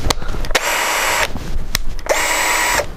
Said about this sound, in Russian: Первую скорость. Шуруповерт.